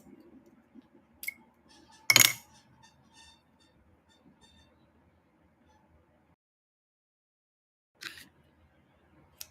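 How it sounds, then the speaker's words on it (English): Ribbon scissors snip through plastic wrapping in a Christmas craft session, one loud crisp cut with a couple of smaller clicks before it, then a quieter rustle near the end, close by in a quiet room. "Get my ribbon scissors."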